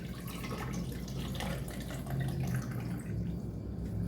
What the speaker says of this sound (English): Then I'm going to pour in enough apple juice